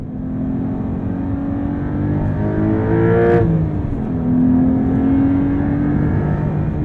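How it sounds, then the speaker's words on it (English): A 2023 Porsche 911 T with a manual gearbox revs up sharply as it downshifts, its engine note rising and falling in a close, continuous roar without any talk. "I'm downshifting here just to hear a little more of that sound."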